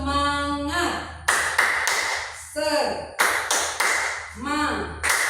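A small group claps the tepuk semangat rhythm in crisp bursts of sharp claps set apart by short pauses, with voices chanting along between the clapping.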